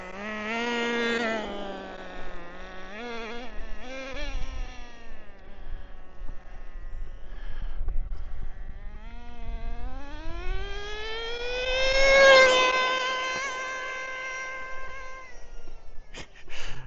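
The nitro engine of a Traxxas Nitro Rustler RC car revs up and down in rising and falling whines, mid-distance and moderately loud, with a strong climb near the end before it settles.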